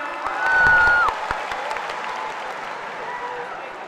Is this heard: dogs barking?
no